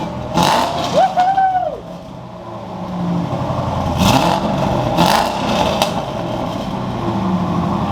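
A rebuilt C5 Corvette engine revs on its first drive, a loud clattering rise under a whirring tone, with brief voices and car noises over a steady running engine.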